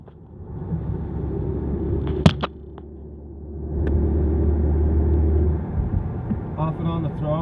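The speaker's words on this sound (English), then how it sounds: "Alright, show you we're in 5th gear." A car cruising in fifth gear gives off a steady low drivetrain rumble that swells, dips after a brief knock, then builds again and holds, close and continuous.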